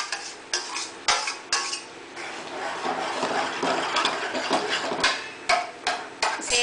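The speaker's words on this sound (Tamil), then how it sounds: "அதை இந்த கீரை வெந்த கீரைக்குள்ளே போடணும்." Cooked moong dal being stirred into boiled greens in a pot for a Srirangam-style radhu keerai koottu, with repeated close scraping and clinking knocks of a spoon against the metal pot over a steady wet, mushy churn.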